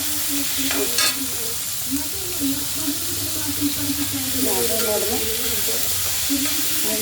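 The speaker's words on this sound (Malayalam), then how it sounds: "അടുത്ത് ഉള്ളി ഇടുകയാണ്." Chopped shallots and onions fry in oil for a chicken thoran, a constant bright sizzle broken by scraping stirs of the pan, with a voice talking softly underneath at times.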